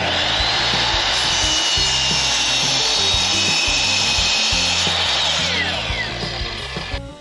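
A power saw cuts through vinyl flooring planks for stairs, a loud steady whine running close and continuous before tapering off at the end.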